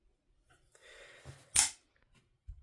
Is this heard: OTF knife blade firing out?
yes